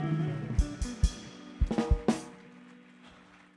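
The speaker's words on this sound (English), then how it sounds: "Clap your hands for God." A church congregation claps hands for God during a service, a short burst of scattered, uneven claps close by that fades out within a few seconds.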